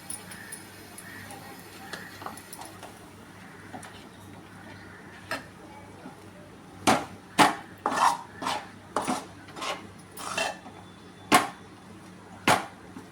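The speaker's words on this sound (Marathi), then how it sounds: "मी आता हळूहळू हे तांदळाचं पीठ याच्यामध्ये सोट्याने ढवळून घेते" Rice flour being stirred into boiling water with a wooden stick for modak dough, giving a series of sharp wooden knocks and taps against the pot that grow louder and more rhythmic in the second half.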